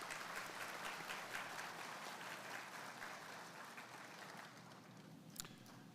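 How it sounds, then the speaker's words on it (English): Audience applause at an associate in applied sciences graduation ceremony, steady crowd clapping heard fairly faint and distant, sustained for several seconds. "If you will join me in giving a round of applause to them for their service."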